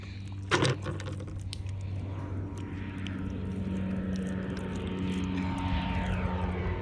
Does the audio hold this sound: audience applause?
no